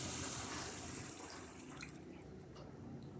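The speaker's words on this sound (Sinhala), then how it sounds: "වතුර ටිකක් දාලා වතුර කෝප්පයක් විතර මම මේකට එකතු කර ගන්නවා" Water is poured into a pan of squid curry being tempered, making a steady, broad rushing splash that carries on for the whole stretch at a moderate level, with no talking.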